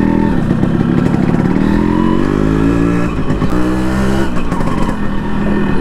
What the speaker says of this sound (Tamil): ஓகேங்க, இந்த வண்டியை நம்ம அப்படியே ஓட்டி பார்க்கலாம்.